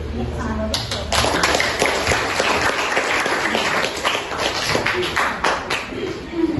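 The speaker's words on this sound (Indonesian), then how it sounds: "Mari berikan tepuk tangan sekali lagi kepada teman kita" An audience applauds a student presenter at a school literacy ambassador selection event, steady clapping from many hands filling the room, with a voice speaking over it.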